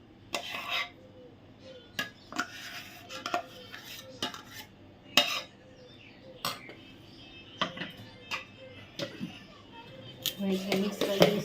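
A spoon scraping and clinking against a bowl while stirring idli batter made from leftover rice, a series of sharp metallic taps and scrapes at an irregular pace, close but fairly quiet, with faint talk underneath.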